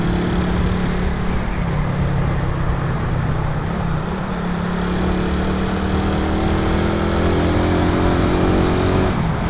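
Carbureted Suzuki Raider 150 motorcycle engine runs loud and close with steady revving, its pitch rising and falling slightly over a continuous drone.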